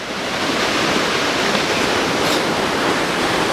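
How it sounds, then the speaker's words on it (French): Steady rushing water, a continuous broadband flow that sounds close and loud, with no voices. "ça c'est le ruisseau d'Artax qui monte hein"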